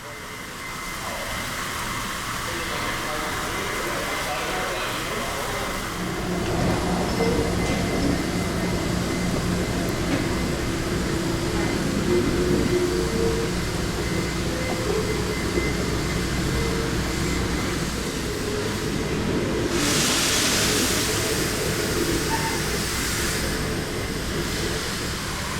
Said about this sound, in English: pair of F-unit locomotives pass the shops and make way for the depot with the passenger cars in tow